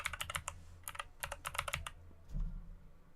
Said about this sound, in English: I hope my keyboard's not too loud for you guys.